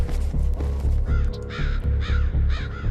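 Crows in the video game Infected: The Twin Vaccine caw repeatedly, loud harsh calls in a steady rhythm of about five caws, near and alone.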